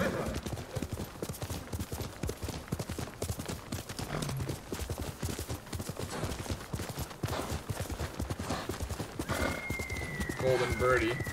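Horse hooves clip-clop steadily in the game Ghost of Tsushima, a quick, even rhythm running throughout, with a brief whinny-like tone and other game sounds near the end.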